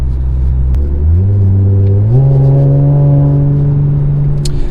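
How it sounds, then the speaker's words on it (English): A 2016 Mercedes-Benz C450 AMG sports sedan's exhaust note climbs through rising revs under throttle, a loud, close droning growl stepping up in pitch, then holding steady. "you could hear when I got on the throttle that exhaust note changes"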